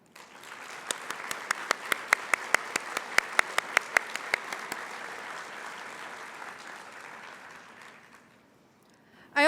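At a nursing pinning ceremony, an audience applauds in a sustained, moderately loud patter with a few sharp nearby claps standing out early, fading after about eight seconds before a sudden loud noise at the end.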